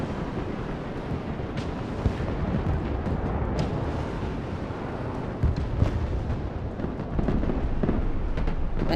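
Bombing run explosions in the war strategy game Broken Arrow, a dense continuous roar of rumbling blasts and crackling detonations with sharper bursts scattered throughout, steady and loud with no talking.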